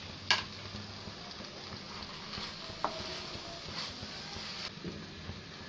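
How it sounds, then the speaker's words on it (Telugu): Cabbage and moong dal curry being stirred in a pan after garam masala and coriander go in, with a soft continuous sizzle and a few faint spoon scrapes and clinks. "గరం మసాలా పొడి, కొత్తిమీరను వేసుకొని కలుపుకుందాం"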